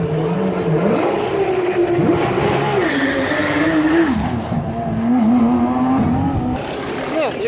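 Race cars in the Nürburgring pit lane, loud and close, engines rising and falling in pitch as they accelerate past, with overlapping revving and a steady roar throughout.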